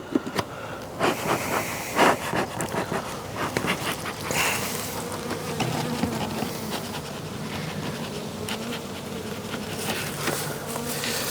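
Honey bees at an opened hive during an inspection make a dense, continuous buzz close by, with scattered louder passes and clicks over the steady drone.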